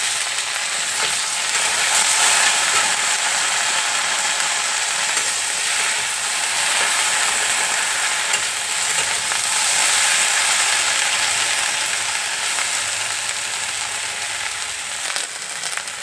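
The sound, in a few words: okra added to fried potatoes, frying in pan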